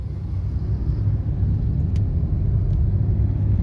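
A car in a driving lesson rolls slowly over a speed breaker, giving a steady low engine rumble and road noise with a couple of faint thuds.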